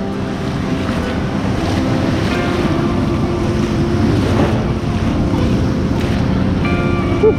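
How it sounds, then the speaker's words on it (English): Steady wash of water in a water park wave pool, a continuous broadband rush with wind noise on the microphone, loud and close with no clear talk over it. "First dip of the day in the wave pool."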